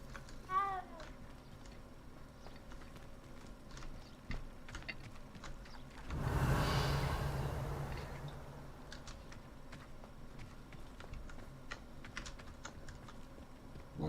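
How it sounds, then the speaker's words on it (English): A cat in Hogwarts Legacy gives a short rising meow near the start, surrounded by steady keyboard typing clicks and a swelling whoosh midway. "That's a cool looking cat."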